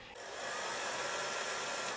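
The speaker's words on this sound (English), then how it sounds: "Now, I am going to actually dry it with my hairdryer." A hair dryer blowing with a steady, close whooshing hiss that starts abruptly and holds constant.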